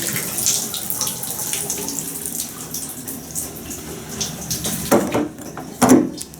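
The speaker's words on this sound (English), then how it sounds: "Man, look, nice shower. It's a Speakman Any stream." A Speakman Anystream hotel shower runs at high water pressure, a steady close hiss of spraying water with a couple of louder splashes near the end.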